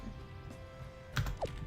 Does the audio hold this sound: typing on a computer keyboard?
yes